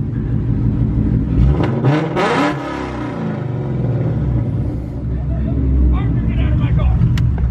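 A street car at a late-night car meet revs hard on two-step launch control, the engine climbing and popping in sharp bursts, then settling into a loud rumbling idle while people talk nearby.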